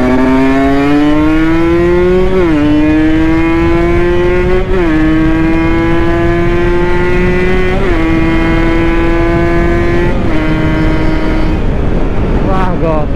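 Kawasaki Ninja R sport motorcycle engine revs and accelerates hard, a loud high-pitched whine climbing steadily through several gear changes with short dips between them, heard close and continuous from start to finish.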